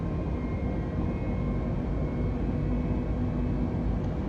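Airbus A319 jet engines in the X-Plane flight simulator, a steady, loud, broadband roar with a low rumble as the throttles advance, holding continuously with no voices.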